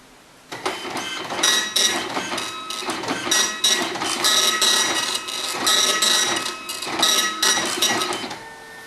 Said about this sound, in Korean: 보기와 같이 인쇄가 정상적으로 이루어지시고